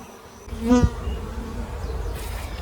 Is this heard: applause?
no